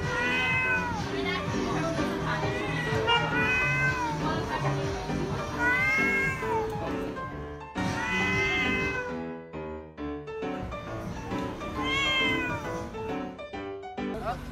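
A cat meows and yowls repeatedly just before a fight, the drawn-out wailing calls rising and falling in several bursts over a dense, continuous layer of background noise.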